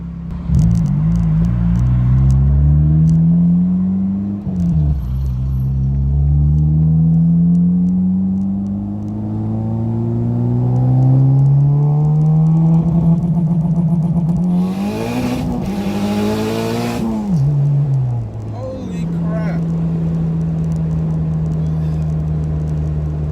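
Turbocharged Honda Civic Si set up with rolling anti-lag, engine revving up and down in long sweeping pulls as it makes a U-turn, then accelerating hard with a brief burst of tire noise, loud and close throughout.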